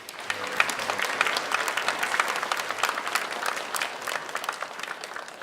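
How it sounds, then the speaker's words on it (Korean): A church congregation at a university chapel Sunday service claps in thanks for the choir, conductor, accompanists and instrumentalists: dense, steady applause from many hands filling the room throughout. "감사의 마음을 담아서 한번 박수하겠습니다"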